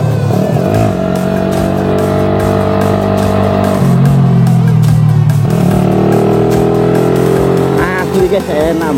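A Suzuki Satria FU 155 motorcycle engine revs hard and loud while being ridden, the pitch climbing and dropping through gear changes in a continuous close-up roar with wind noise.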